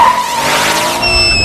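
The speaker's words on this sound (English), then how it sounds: "the two of them get in a car crash on their way there" A car crash in the Silent Hill movie, heard as a loud, continuous roar of engine and skidding tyres with a sharp squeal rising near the end. The sound is close and dense, with no voices.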